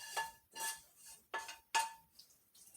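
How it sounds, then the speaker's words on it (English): A spoon stirring homemade chili in a metal pot gives four bright clanking scrapes in an uneven rhythm, close and fairly quiet, then a few faint clinks. "Give it a stir."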